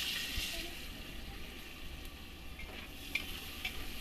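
Chilli, garlic, onion and tomato being stirred in a frying pan give a faint, steady sizzle with a few soft scrapes and clicks of the utensil.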